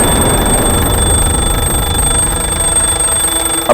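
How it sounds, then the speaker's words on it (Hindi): An alarm clock on a bedside table rings early in the morning, a loud, steady and unbroken ringing with no voices over it. "अलार्म बजा"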